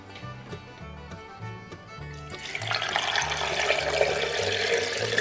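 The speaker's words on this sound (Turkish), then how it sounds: "Ve suyunu döküyorum." Water pours from a tap into a pot of pork trotters with onions and garlic, starting after a moment of low clatter and swelling into a steady rushing splash that continues to the end, with no talk.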